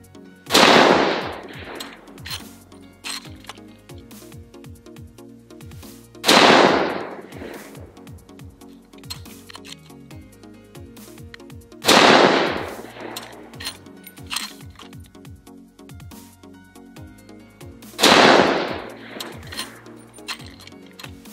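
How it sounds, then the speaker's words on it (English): A Howa 1500 Mini Action bolt rifle in 7.62x39 fires Winchester ammunition, four loud sharp shots spaced about six seconds apart, each trailing off in a short echo, with quiet mechanical handling between shots and no talk. "So let's see how this Winchester load does."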